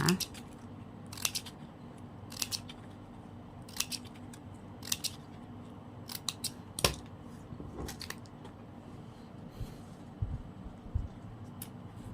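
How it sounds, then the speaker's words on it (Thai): Scissors snip the end of a ribbon while making a decorative ribbon coin favor, giving a series of sharp, close cuts spaced irregularly over quiet room tone. "เสร็จแล้วเราก็ตัดปลายริบบิ้นนะคะ"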